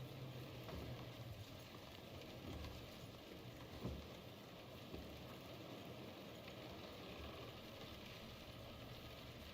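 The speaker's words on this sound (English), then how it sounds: "this rain's gonna help" Steady video game rain hiss fills the scene, a continuous wash of patter with a faint low rumble underneath and a couple of soft thuds.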